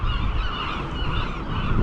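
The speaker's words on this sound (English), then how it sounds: "Look at all those birds there too." A dense, continuous clamour of seabirds calling at Alcatraz, many overlapping honking cries packed together and fairly loud, with no talk over it.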